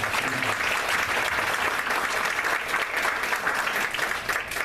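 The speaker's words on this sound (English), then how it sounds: "So another round of applause for these students." An audience at a board of education meeting claps for students, a dense, steady round of applause lasting several seconds with no pause.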